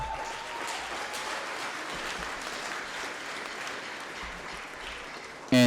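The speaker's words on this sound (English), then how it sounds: "please give our administrators a round of applause" Audience applause fills a school band concert as administrators are honored, a steady, dense wash of clapping from a large crowd that holds evenly throughout.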